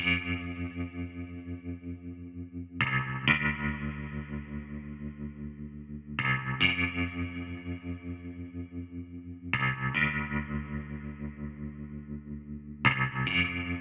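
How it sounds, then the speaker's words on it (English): Roland JV-1080 synthesizer's Twin Strats patch run through a guitar amp, distorted electric-guitar-like chords struck in a slow repeating pattern with long chorus-tinged sustain, loud and close. "on the Roland JV-1080, there is a patch called Twin Strats, and with that, I put it through the same amp signal as the guitar sample"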